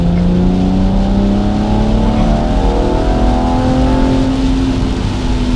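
A car accelerating hard on a Scottish road during an overtake, engine note climbing steadily through the rev range, loud and close from inside the cabin, with no talk.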